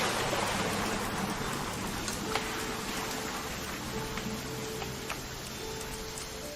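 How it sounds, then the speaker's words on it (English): Steady rain falls in the video game What Remains of Edith Finch, a constant dense hiss with scattered light drips and ticks, joined by a faint low hum, with no voices. "It's gonna rain the whole weekend"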